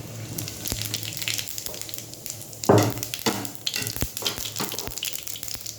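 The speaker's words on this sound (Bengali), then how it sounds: "তেলটা গরম হোক, জিরে দেবো, সাদা জিরে।" White cumin seeds frying in hot oil in a home kitchen, a steady close sizzle with crackles and a louder burst of spattering as the seeds hit the pan, with some stirring clinks.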